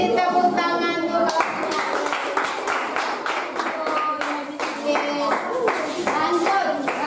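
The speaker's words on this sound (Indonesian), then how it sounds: "beri tepuk tangan dulu" A group of children claps together in a classroom, a lively run of quick, fairly even hand claps lasting several seconds, with young voices calling out over it.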